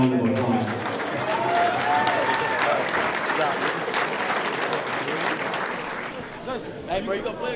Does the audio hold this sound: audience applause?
yes